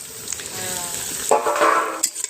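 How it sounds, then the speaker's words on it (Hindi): Onions sizzle and fry in a pan as the base for a desi-style mutton curry, a steady hiss joined by a few louder bursts of stirring and scraping against the cookware. "प्याज भुजा रहा है मटन के लिए"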